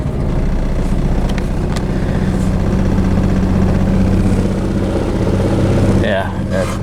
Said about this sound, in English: It doesn't stay running. It doesn't idle at all.